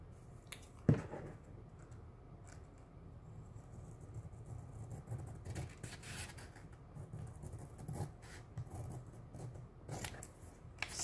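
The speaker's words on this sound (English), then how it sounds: "So now let's trim these a little bit." Scissors trim pieces in a small craft project, quiet close snips and rustling arriving in scattered bursts over a soft background, with one sharper click early on.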